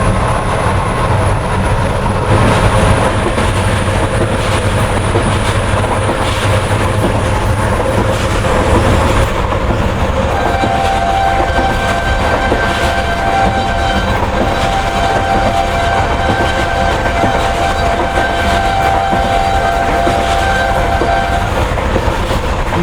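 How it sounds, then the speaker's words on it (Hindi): Tezgam passenger train rolling fast on track between Nawabshah and Bahawalpur, a continuous loud rumble with rhythmic clatter heard from inside a coach, a torn rubber gangway belt jolting, and a long high horn tone late on. "ना सिर्फ स्पीड बढ़ती है बल्कि ट्रैक साउंड जो है वो भी काफ़ी ज़्यादा यूनिक हो जाता है।"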